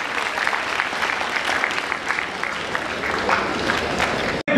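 Audience applause at an event welcoming ADCP Sukhpal Singh Brar to the stage during a traffic awareness week ceremony, a steady wash of clapping and crowd noise that cuts off abruptly near the end.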